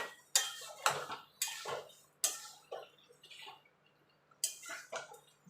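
Prawns going into a pan of potato and pointed gourd masala, heard as a series of sharp metallic clinks and scrapes of a utensil against the pan, spaced irregularly and fairly close.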